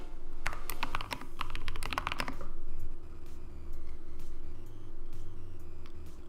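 Quick, close clattering of keys as someone types on a computer keyboard for about two seconds, then the tapping stops and only a steady low room hum remains.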